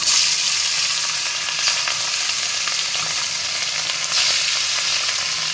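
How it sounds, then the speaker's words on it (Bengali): Small pieces of rohu fish sizzle steadily in hot oil in a wok, a loud, continuous frying hiss with faint crackles throughout and no talk. "মাছগুলো ভেজে নিই।"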